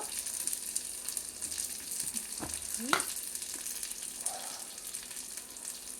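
Peanuts fry in a pan for peanut chutney, with a soft, steady sizzle close by and a few light scraping stirs.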